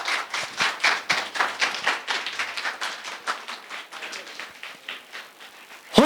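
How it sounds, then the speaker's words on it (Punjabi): An audience at a church deliverance prayer service claps in a brisk, loud burst of applause, with rhythmic overlapping hand claps that gradually thin out toward the end. "ਤੁਹਾਡੀ ਜ਼ੋਰਦਾਰ ਤਾੜੀਆਂ ਯਾਰ ਭਰਾਵਾਂ ਵਾਸਤੇ"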